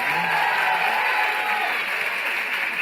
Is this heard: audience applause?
yes